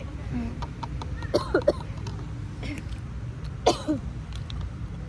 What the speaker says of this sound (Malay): Batuk Inggeris lah.